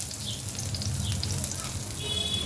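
Dal roasting in a pan with garlic cloves added, giving a steady, close, low-level sizzle and crackle with faint scraping from stirring throughout, no voices.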